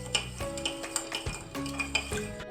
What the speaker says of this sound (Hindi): ऐसा अब मिक्स करने का तरीका देखिए मैं अच्छी तरह से कैसे मिक्स करता हूँ।